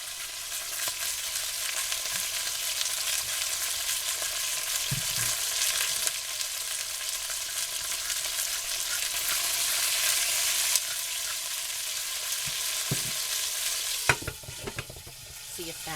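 Pork chops brown in an old Presto electric pot, giving a continuous loud sizzle and crackle of frying with occasional clinks and scrapes of a utensil near the end.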